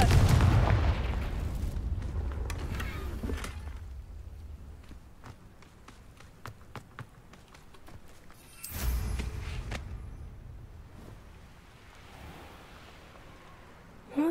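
A Confringo fire-spell blast from the video game Hogwarts Legacy lands as a heavy booming burst at the start. Footstep-like clicks and a second rumbling surge follow later, fairly close and loud.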